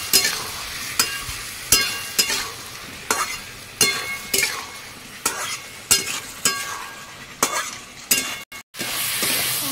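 Spice paste being stirred and fried in a pan for a papaya curry with papad fritters, close and steady sizzling broken by regular scraping strokes of a spoon roughly every second, no talking.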